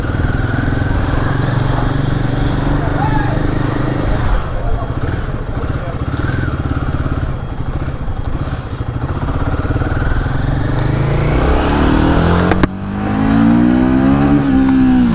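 Royal Enfield Guerrilla 450 motorcycle pulling away, a loud steady engine drone with wind rush throughout, a sharp knock near the end followed by rising revs as it picks up speed.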